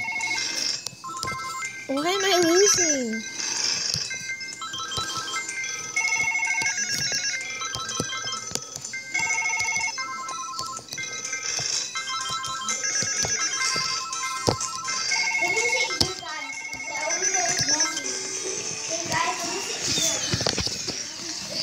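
Telephone ringtone from a party video game rings in a repeating electronic melody, loud and busy, layered over game music and effects while children talk and exclaim throughout.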